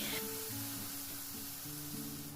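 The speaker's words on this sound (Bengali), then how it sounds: "মশলার পেস্টটা দিয়ে দিয়েছি" Spice paste for lentil khichuri frying in a pan, a dense steady sizzle throughout, close and continuous, with faint tonal hum beneath.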